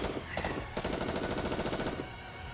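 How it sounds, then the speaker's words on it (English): Rapid, sustained automatic gunfire from the NIKKE video game during its Evangelion collaboration, a fast rattling barrage of rhythmic shots running for about two seconds before easing off. "Asuka and Rei unleash a barrage of gunfire towards the core of the massive object"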